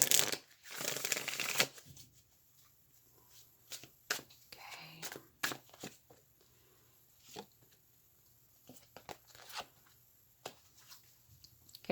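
Tarot cards are shuffled by hand close up, a loud riffling burst at the start followed by irregular soft slaps, taps and flicks of the deck in a quiet room.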